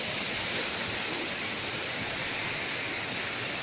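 Waterfall at a water crossing on the Andharban forest trail, a dense, unbroken rush of falling water, loud and steady throughout, with nobody speaking.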